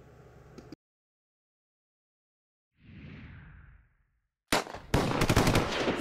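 A gun fires in the video game GTA, heard as loud dense bursts of rapid automatic fire near the end. Before that come a short noisy stretch, silence and a muffled whoosh.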